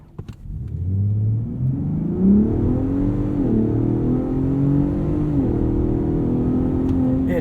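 A 2021 Ford F-150 Raptor with the 37 Performance Package accelerating hard from a stop, engine note climbing steadily with brief dips at gear shifts, loud and close inside the cabin.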